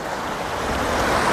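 River water rushing through a forest stream, a loud broadband roar of flowing water with some wind buffeting, close and continuous.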